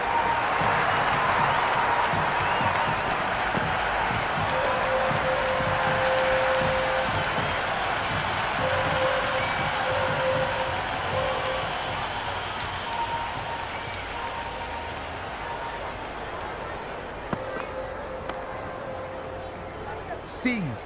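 A crowd in an IPL cricket video game (LSG vs RCB) cheers and applauds after a boundary in a long, loud roar that slowly fades, with a commentator talking over it.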